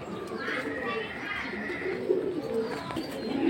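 Pigeons coo softly and repeatedly throughout, with a continuous low murmur of background activity.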